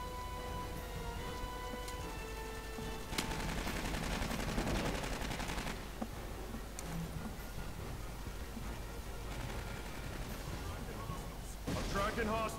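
Gunfire rattles in the Aliens: Colonial Marines video game, dense rapid bursts over a constant rain-like noise bed, with a voice speaking now and then amid the shooting.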